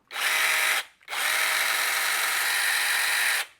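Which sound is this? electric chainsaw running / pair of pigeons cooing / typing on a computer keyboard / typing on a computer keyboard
electric chainsaw running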